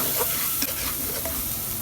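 A spice paste fries noisily in a pan and is stirred with scraping strokes, a dense sizzle that holds on without a break and no voice over it.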